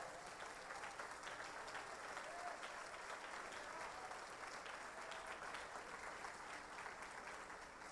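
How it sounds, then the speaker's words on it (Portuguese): A church congregation applauds steadily during a sermon, a dense wash of clapping from many hands that holds at an even level throughout, fairly distant and roomy. "Dá a melhor salva de palmas para Ele."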